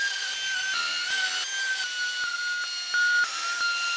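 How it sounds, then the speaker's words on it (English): An air ratchet on 8 mm clutch cover bolts of a Suzuki GS850 motorcycle whirs in a steady high-pitched whine that dips slightly in pitch, with rapid ratcheting clicks throughout. "I'm just going to use my air ratchet, make it faster"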